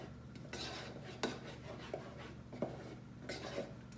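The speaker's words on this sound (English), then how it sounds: "So we'll just give that a little stir." A utensil stirs chocolate cake batter in a bowl. There are soft scraping sweeps and several sharper taps against the bowl, close up, and no one speaks.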